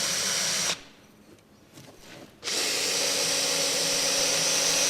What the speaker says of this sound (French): On essaye de percer un trou.